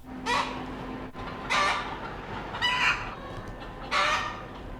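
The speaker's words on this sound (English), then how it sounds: "Kate Freeman always gets a cheerful greeting from the chickens she raises" Backyard chickens at an urban coop in Baltimore, with several loud, close bursts of clucking and crowing spaced a second or so apart over a steady low hum, with no voices.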